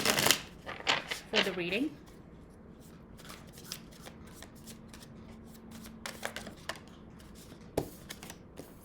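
Tarot cards are shuffled in quick riffling bursts near the start for drawing a significator card, with a few softer card flicks and taps later, while a voice talks briefly.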